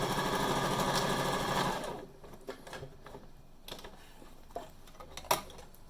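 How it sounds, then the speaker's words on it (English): A sewing machine runs a zigzag stitch on fabric, a fast close mechanical chatter for about two seconds, then stops, followed by scattered clicks and light handling noises. "we just fold this back down and tack in the zigzag stitch"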